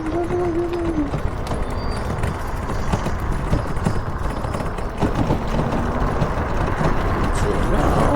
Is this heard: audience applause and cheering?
no